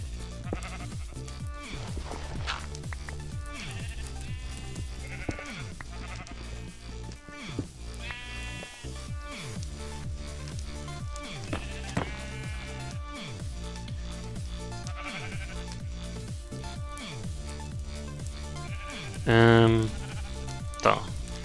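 Sheep bleating in the video game Minecraft, several short wavering bleats repeating over game music and a German voice talking, with one louder, closer bleat near the end.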